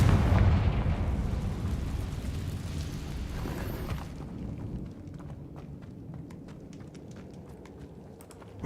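A Confringo spell detonates in the video game Hogwarts Legacy, a heavy, close explosion that booms at the start and rolls off into a rumbling tail with scattered crackles and debris as it fades.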